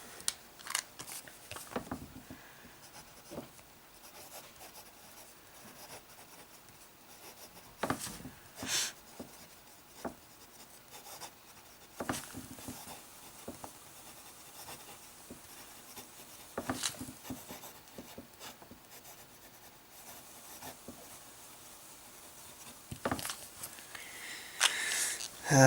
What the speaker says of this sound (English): And then a bit of medium writing.